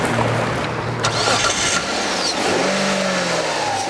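An all-new 2001 Hyundai Santa Fe SUV with a 2.7-litre V6 hums and revs steadily throughout, a continuous engine drone with faint swelling pitch and no talking.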